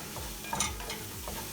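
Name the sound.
scrambling sausage and eggs in a pan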